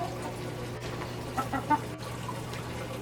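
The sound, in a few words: chickens clucking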